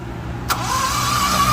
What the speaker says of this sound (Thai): แต่ว่าเครื่องสตาร์ทไม่ติด อ่าลองสตาร์ทดู